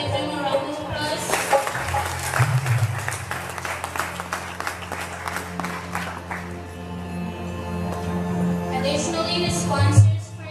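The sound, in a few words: audience applause for the musicians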